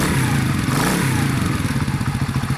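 A Delta moped's small engine keeps running just after a cold winter start, a close, loud, rattly putter with a rapid uneven pulse and clattering mechanical noise.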